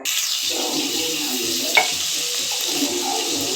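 Fenugreek seeds and curry leaves dropped into hot oil for a bottle gourd and dried fish curry, giving a steady close sizzle and frying hiss with light stirring, with no talk.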